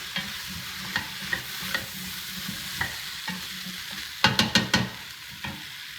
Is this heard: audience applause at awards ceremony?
no